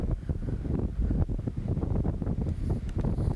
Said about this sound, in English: It is so windy up here right now that I don't know whether you can hear me.